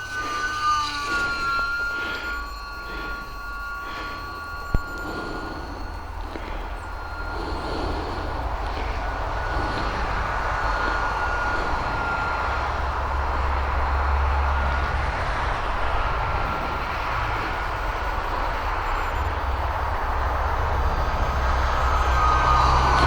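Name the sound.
UMX Timber X RC model plane flying in high winds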